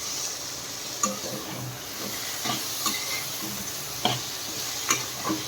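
Tomatoes, six of them, stirred in hot oil in a pan; a steady low sizzle and hiss runs throughout, punctuated by several sharp clicks and scrapes of the spoon against the pan, with no talking.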